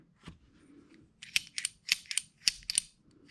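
The bolt group of a SIG SG-553 rifle is pulled and slid out, producing a quick series of sharp close metallic clicks and clacks after a single initial snap.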